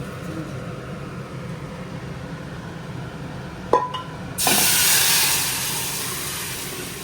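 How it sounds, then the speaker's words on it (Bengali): Spices hit hot oil in a pan for dal tempering with a brief clink, then burst into a loud, sustained sizzle that slowly eases off, after a quiet stretch of kitchen ambience. "এখানে ডাল ফোড়ন দেওয়া হচ্ছে।"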